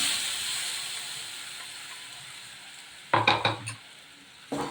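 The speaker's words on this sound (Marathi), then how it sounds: "त्याला तेल सुटेपर्यंत चांगलं परतवून घेऊयात" Ginger, garlic, coriander and chilli paste sizzling in hot oil in a pan, a steady bright hiss that fades slightly, then a few close scraping stirs of the spoon near the end.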